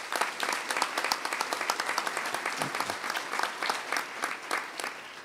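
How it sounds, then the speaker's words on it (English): A hearty round of applause from the audience at a New York state government conference on community reconstruction plans, with many hands clapping in a lively, rippling burst that holds steady for several seconds. "Let's give them a round of applause."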